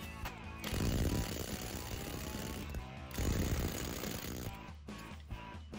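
A brushless Ferrex impact wrench on a 5 amp battery loosens bolts with two loud, rapid hammering bursts, each lasting a couple of seconds, followed by a few short impact blips at the end.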